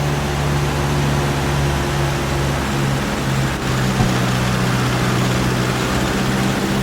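Cessna 172 piston engine in the A2A Accu-Sim flight simulator being leaned, a steady loud droning hum with a constant low tone throughout and a slight shift in pitch partway through, no talking.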